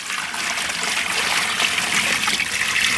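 Water from a bucket poured into an outdoor turtle enclosure, a close, steady splashing trickle that swells slightly toward the end, with no talk over it.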